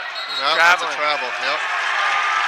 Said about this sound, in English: The Tiger crowd loves it.